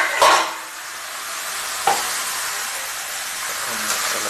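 Chicken being stirred in a hot pan for a coconut fried chicken curry, a steady hiss of frying with a few scraping spoon clatters against the pan.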